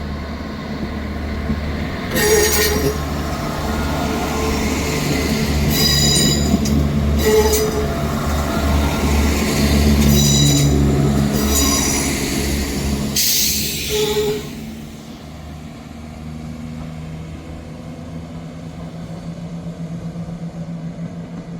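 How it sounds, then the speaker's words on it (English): A ScotRail passenger service from Glasgow Queen Street pulls into Dundee station, where it terminates. A loud, close rumble of wheels is broken by repeated high metallic squeals, then the noise drops to a quieter idle hum as the train stops. "Arriving in now is the 1349 Scotrail service terminating here at Dundee from Glasgow Queen Street."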